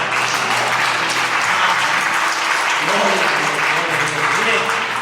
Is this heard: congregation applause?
yes